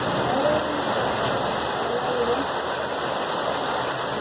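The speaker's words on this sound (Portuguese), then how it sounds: "Começou a chuva agora." A downpour in Mauá, São Paulo makes a steady, broadband rushing hiss, thick and unbroken, as rain drums on nearby surfaces at close range with no one speaking.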